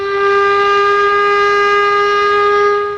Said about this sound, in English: At noon every Wednesday, the siren would blare out over the neighborhood.